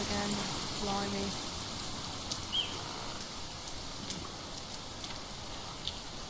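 Rain falls steadily in a forest, a soft, even hiss of drops on leaves and ground with occasional faint bird chirps, fairly quiet and continuous.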